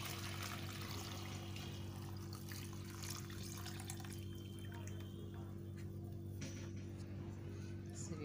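Zobo, a hibiscus drink, is poured through a sieve in a steady watery trickle over a constant electrical hum, with a faint voice in the background.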